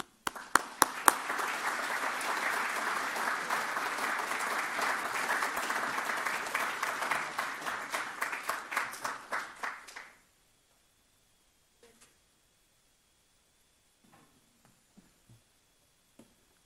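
Audience applause welcoming a history scholar to the podium at an evening lecture, a dense burst of clapping that starts at once, holds for about ten seconds, thins to scattered claps and then stops, leaving quiet room noise.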